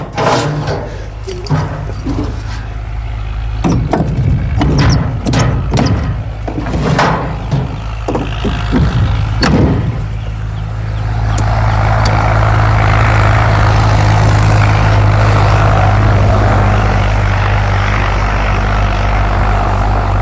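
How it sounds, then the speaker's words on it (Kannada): A borewell pump motor on a farm with a recharged bore: a run of handling clicks and knocks, then the motor kicks in about halfway and holds a loud, steady, droning hum to the end. "ಇವಾಗ ಮೋಟ್ರು ಸ್ಟಾರ್ಟ್ ಮಾಡ್ತೀನಿ ಸರ್."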